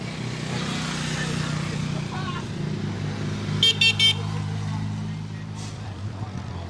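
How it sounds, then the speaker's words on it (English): Motorbike riders ride past at a volunteer emergency services fund rally in Bendigo and blow their horns in a short burst of beeps. Traffic rumbles steadily underneath and the engine noise stays fairly close. "Even the people on motorbikes going past are blowing the horn."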